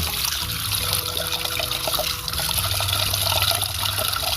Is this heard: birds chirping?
no